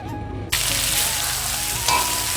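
Meat stir-fried in spices in a pan, starting with a low background hum before a loud sizzle bursts in abruptly and holds steady, close and hissing, with a slight surge near the end.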